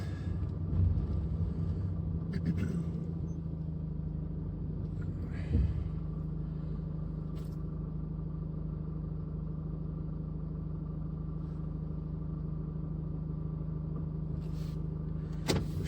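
A car rolls slowly up to the Eurotunnel terminal in France at night, its engine a quiet, steady low hum inside the cabin, broken by a few brief knocks and clicks, with no one speaking.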